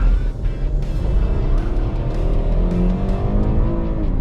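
A rebuilt Camaro engine from a crashed-car rebuild runs steadily at idle, a loud, close, continuous low rumble with even firing and slight pitch swells, with no talking over it.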